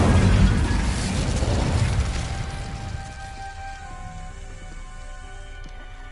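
An Incendio fire spell cast in Hogwarts Legacy, a loud burst of crackling fiery whoosh that fades over a few seconds into a quieter magical shimmer with faint ringing tones.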